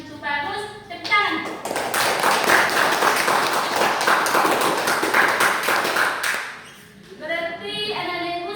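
A high school class led by a student teacher bursts into applause for a pupil, with several seconds of dense, lively clapping framed by someone talking before and after.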